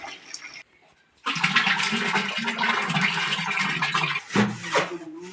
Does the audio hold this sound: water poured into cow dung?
yes